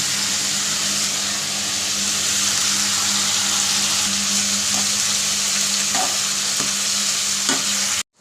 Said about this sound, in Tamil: இப்போ நம்ம புளி கரைச்சலை சேர்த்துக்கலாம்